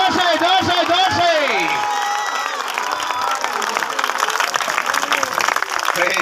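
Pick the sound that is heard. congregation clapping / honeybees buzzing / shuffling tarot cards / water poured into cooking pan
congregation clapping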